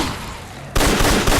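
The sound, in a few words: Mossberg 590A1 shotgun firing in video game Fallout 4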